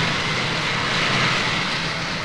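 Jet engine roar from an aircraft at San Juan's modern airport in Puerto Rico, a loud, continuous, broadband rushing noise held steady throughout, with no voices.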